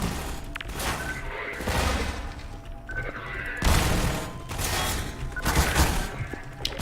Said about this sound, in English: I did not want that grenade to go right next to me